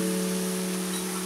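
Onions dropped into a pan with skin-on chicken for chicken kosha give a steady, soft sizzle that stays even and unbroken through a short moment, fairly quiet and close, with no voices.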